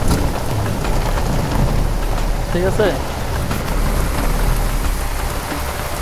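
Heavy rain pours down in a dense, constant roar during a thunderstorm, with a person speaking briefly over the downpour.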